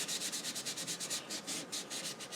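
Sandpaper rubbing over the hard shell of a dried apple gourd, a steady, close, rhythmic scratching of quick back-and-forth strokes with no talking.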